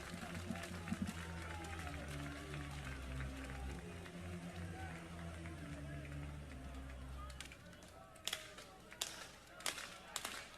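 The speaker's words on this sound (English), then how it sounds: "Rhythmic clapping from the fans at Kemry Family Stadium." Baseball fans at Kemry Family Stadium clap during a Santa Clara versus Oklahoma game, heard as sharp crowd claps that grow more distinct toward the end while an announcer talks over stadium ambience.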